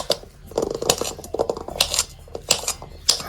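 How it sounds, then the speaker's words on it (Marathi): A knife chops potatoes on a board at close range, an uneven run of sharp taps and light metallic clinks, with no talk. "आता आपण बटाटा चिरायला सुरुवात करतोय"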